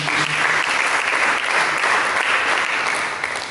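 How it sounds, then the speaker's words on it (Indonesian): A church congregation applauding during a sermon, a thick and continuous wash of clapping that fills the room loudly and evenly without pause. "Berikan tepuk tangan bagi Yesus."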